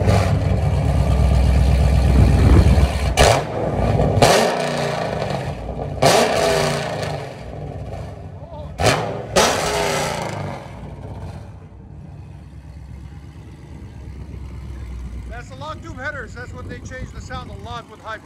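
A Dodge Charger SRT8 with a 6.4L engine, long-tube headers, high-flow cats, a mid muffler delete and stock rear mufflers, idling with a deep rumble and several sharp revs, then settling to a low idle under some talk.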